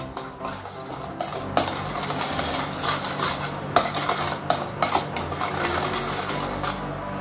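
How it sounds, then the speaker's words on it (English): A spoon clinks and scrapes against a bowl as red fermented tofu is pressed and stirred into a marinade for deep-fried pork belly, giving close, irregular metallic taps and clatters with no voices. "you can actually press the tofu and then stir it"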